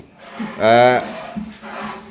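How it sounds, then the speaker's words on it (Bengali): A dairy cow gives one short, loud moo close by, with softer low calls and faint murmuring around it in an enclosed shed. "এখানে দুটি গরু দেখছি"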